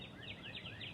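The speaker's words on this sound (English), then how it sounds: "hopefully you can hear the beautiful birds singing as well" Several birds chirp and trill outdoors beside a backyard deck, short repeated high calls spread across a steady bed of faint ambient noise, fairly distant and gentle, with no talk.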